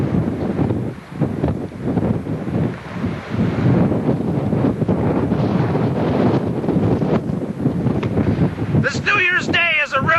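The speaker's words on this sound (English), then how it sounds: "The weather is really shitty, starting to blow about 35 knots out of the south." Strong south wind of about 35 knots in rough weather, blasting the microphone with a loud, continuous, gusty rumble for the whole stretch, with a brief higher whistling tone near the end.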